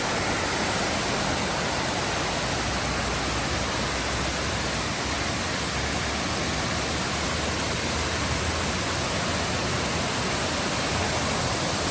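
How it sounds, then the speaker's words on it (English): Dunsinane Falls in Sri Lanka pours during heavy rain, a steady, loud, broadband roar of falling water that holds unbroken throughout with no voices. "Wow, very beautiful waterfall."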